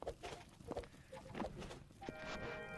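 Game sound effect of footsteps in a Godot-built video game, several quiet, hollow steps in an uneven rhythm, faint and close, with a tonal chime rising toward the end.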